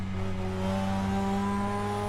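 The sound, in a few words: Mazda RX-7 braking hard and downshifting, Assetto Corsa video game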